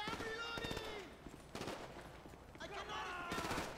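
Rapid bursts of gunfire trade back and forth in a GTA V shootout at a construction site, loud sharp volleys clustered in several bursts over a busy game soundscape.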